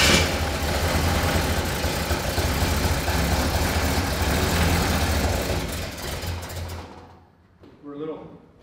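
The newly installed engine in a car called Big Red runs loud and rough with a steady low rumble, then cuts out near the end, followed by a short, faint sputter. A voice is heard in the background.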